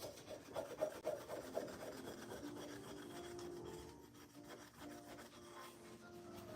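Fine 000 steel wool rubs rust off a hickory-shafted golf club, a quiet close rhythmic scrubbing that starts in quick strokes and settles into a softer steady rasp.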